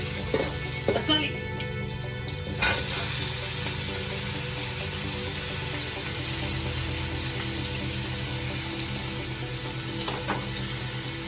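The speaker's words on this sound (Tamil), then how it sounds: "தக்காளி நல்லா வதங்கிடுச்சு." Tomatoes and curry leaves sauté in a pan for chicken fry, giving a steady broadband sizzle throughout with a few soft stirring clinks near the start.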